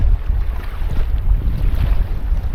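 Wind-driven lake waves slap against a canoe on a Boundary Waters trip. A steady, heavy rumble of wind and water runs close and loud throughout, with no voices.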